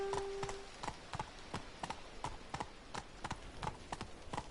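Horse hooves clip-clop at a steady, quick, even rhythm while riding in The Witcher 3 video game. The clops are fairly close and sound alone, with no talking.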